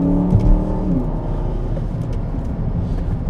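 An Aston Martin DBX SUV pulls away under acceleration, a rising engine note heard from inside the cabin, brief and fairly muted beneath steady road and wind roar.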